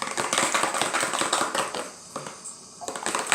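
Slime stirred quickly by hand, a dense run of wet clicking, squelching pops close up, with a brief lull before the fast mixing picks up again.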